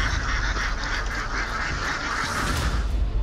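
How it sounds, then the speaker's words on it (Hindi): A dense flock of ducks or geese calling together, a loud continuous honking and quacking chorus with no pause, heard in a news report on ducks sent from China to Pakistan against locust swarms. "बतख को टिड्डी से लड़ाएंगे इमरान।"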